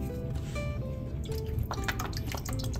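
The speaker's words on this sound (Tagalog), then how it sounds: "Magdadagdag po ako ng patis." Patis (fish sauce) poured into a simmering pot of salmon miso sinigang, a short liquid trickle with small drips and splashes, close up over a steady bubbling background.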